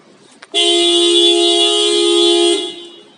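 The car alarm of a Renault Fluence sounds its horn in one loud, sustained blast of about two seconds, close by, preceded by a brief click and free of talk.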